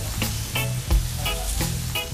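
Jerk chicken sizzles and crackles steadily on a hot grill, with soft pops and scraping sounds throughout.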